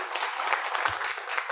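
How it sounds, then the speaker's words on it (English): An audience at a stand-up comedy open mic in Chennai claps in a dense, even burst of applause for a short moment, with a brief low thump partway through. "Can we have a round of applause?"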